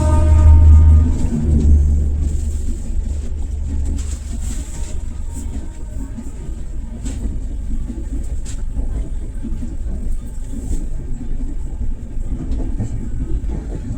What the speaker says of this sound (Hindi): नई दिल्ली दरभंगा बिहार संपर्क क्रांति एक्सप्रेस।